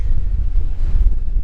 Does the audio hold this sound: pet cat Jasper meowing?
no